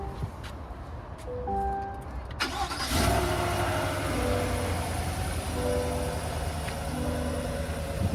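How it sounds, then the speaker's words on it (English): A 2022 GMC Sierra 1500 SLT crew cab with the 5.3L engine cold-starts: a brief starter crank, then the engine catches and settles into a steady, fairly loud high idle that runs on to the end. "we're gonna get a cold start going on"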